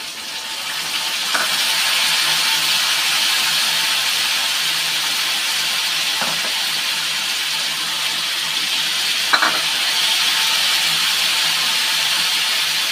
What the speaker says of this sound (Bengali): এখন মশলাটা দিয়ে দেব। জিরে, আদা, কাঁচা লঙ্কা, পেঁয়াজ, রসুন একসাথে পেস্ট করে নিয়েছি।